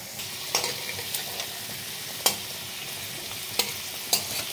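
Tangra fish frying in mustard oil in a pan, a steady close sizzle broken by several sharp spits and pops, with no talking.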